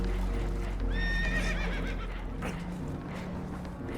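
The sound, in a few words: horses neighing, spooked, in Red Dead Redemption 2 video game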